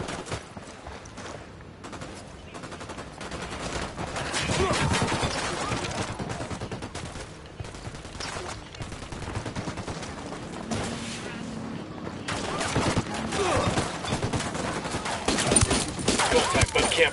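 Rapid bursts of video game gunfire crackle almost continuously over a PS4 battle soundtrack, with sustained loud volleys and a voice talking over the action.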